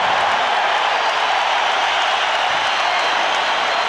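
A crowd at an NBA basketball game between the Bulls and the Suns cheers and applauds, a loud, steady wash of noise that fills the arena throughout.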